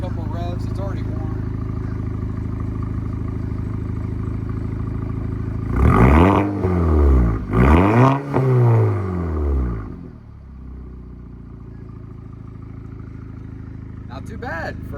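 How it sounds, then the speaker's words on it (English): Warm Audi four-cylinder car engine with a new exhaust, idling and then given two sharp revs that rise and fall back, loud and close, before it settles to a quieter idle. "I can go ahead and give it a couple of revs."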